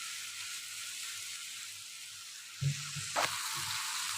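Potatoes frying in butter in a pan, a steady soft sizzle throughout with a few louder scraping stirs and clatters near the end.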